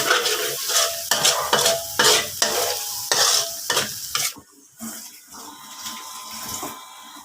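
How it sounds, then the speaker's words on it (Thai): Coconut milk and krachai curry paste are stir-fried in a pan for a beef curry with pickled bamboo shoots. Loud sizzling frying runs under rhythmic scraping stirring strokes, then eases to a quieter simmering hiss. "มีจังหวะเราผัดไปเนี่ยกะทิมันแตกมันมันหอมมันเอง"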